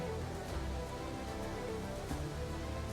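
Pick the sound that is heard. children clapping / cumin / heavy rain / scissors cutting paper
heavy rain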